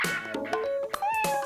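A cat meows close up in a cat litter television commercial, giving a few short, clear meows in quick succession with brief gaps between them.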